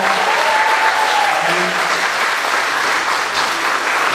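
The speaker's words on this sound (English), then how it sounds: "one more round of applause for the WHS Jazz Combo" An audience applauds a high school jazz combo at a school concert, a dense, steady clapping that fills the whole stretch at close range.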